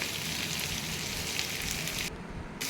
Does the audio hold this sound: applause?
no